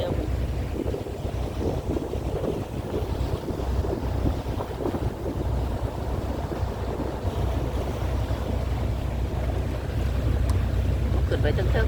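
Boat ride back to shore on open water, with steady engine rumble, wind buffeting the microphone and waves washing against the hull, continuous and fairly loud, with faint voices underneath.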